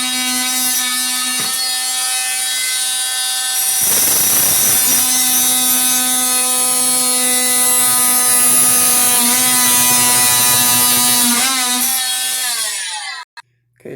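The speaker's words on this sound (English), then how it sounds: "it's going to oscillate on that line. So I'm holding this down and then I'm cutting." Oscillating multi-tool cutting through wooden door trim, a loud, steady high-pitched buzzing whine held for about thirteen seconds that shifts in tone as the blade bites in, then stops abruptly.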